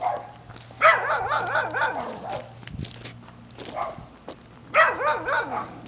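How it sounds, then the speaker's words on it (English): Several dogs bark in repeated bursts, near and loud, over a steady low hum outdoors by a tree during a pellet gun hunting walk, with pauses between the barking spells. "Stupid dogs are barking right now."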